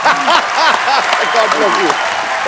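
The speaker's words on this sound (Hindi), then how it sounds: "तालियां बजती रहे" A comedy-show studio audience keeps clapping after a musical performance, a broad wash of applause running under a prominent voice that talks or calls out over it throughout.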